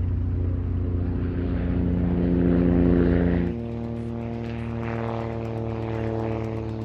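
A propeller airplane engine drones loudly and steadily with a pulsing throb, shifting to a slightly different pitch midway as the power changes, with no voices over it.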